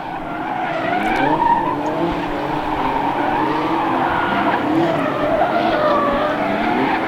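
A number 9 Legends race car at New Hampshire Motor Speedway drives off after being pulled from sand, its engine droning steadily with wavering pitch and a loud, continuous roar close by throughout.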